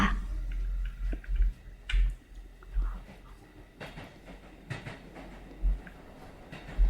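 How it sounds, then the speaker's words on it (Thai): Train in the Tsugu no Hi video game running toward a station, with low rumbling, irregular clicks and knocks, and faint whispery noise in between. "รถไฟกำลังจะถึงสถานีแล้ว กรุณาเตรียมตัวอะ"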